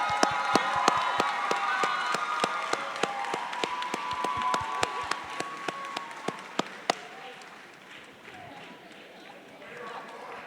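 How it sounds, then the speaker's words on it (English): A graduation ceremony audience applauds family members of graduates, with crowd clapping and some cheering under distinct sharp, rhythmic claps near the microphone that stop partway, leaving the crowd fading. "let's give our family members a round of applause"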